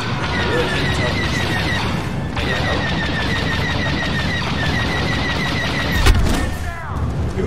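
Rapid blaster gunfire and explosions fill a Star Wars Battlefront II battle, a dense continuous barrage with a sharp loud blast near the end, with talk mixed in.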